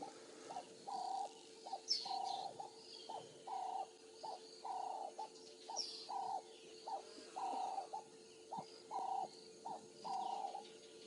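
A Cape turtle dove calls over and over in short, evenly spaced coos with a steady rhythm, fairly close, on an African safari drive, while faint chirps from other birds sound in the background.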